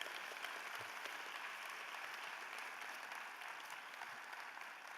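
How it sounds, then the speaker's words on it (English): Sustained audience applause at an awards gala in a convention center, a steady dense wash of clapping from a large crowd at a moderate, somewhat distant level. "give them a round of applause"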